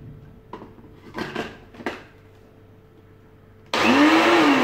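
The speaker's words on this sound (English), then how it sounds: "Take your blender." A few clinks and taps of kitchen items, then a blender making watermelon juice suddenly roars to life, loud and steady, its motor pitch climbing slightly as it runs.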